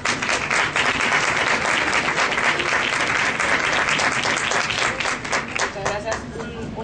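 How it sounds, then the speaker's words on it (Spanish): An audience at a regional family law conference gives a speaker a round of applause, with dense continuous clapping close by that holds steady and thins slightly toward the end. "Un aplauso para la doctora."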